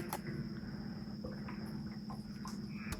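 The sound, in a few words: frogs calling out in the grass at night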